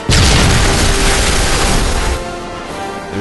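A loud, sustained explosion blast with heavy rumble fills a stop-motion animated film's action scene, roaring for about two seconds before tailing off into a lower, ringing decay.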